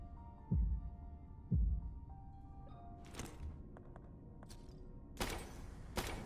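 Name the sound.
heartbeat from a baby doll statue in Tormented Souls video game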